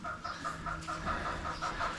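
Hens cluck and murmur in steady, overlapping bursts close by at a backyard coop during morning chores, with no other sound above them.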